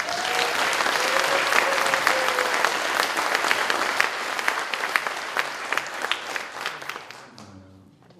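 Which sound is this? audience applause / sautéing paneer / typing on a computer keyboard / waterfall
audience applause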